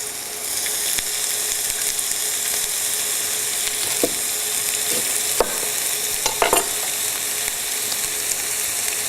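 Steady crackling sizzle of food frying in a pan, with occasional clicks and scrapes of stirring, close up and without voices.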